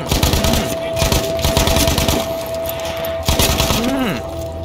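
Gunfire in the video game Battlefield V, dense rapid crackling shots rattling continuously under a steady drone, with someone shouting over it.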